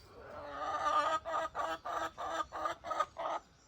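Chicken clucking in a workshop setting, a run of about seven distinct, rhythmic clucks at steady spacing, fairly close and clear with no talk over them.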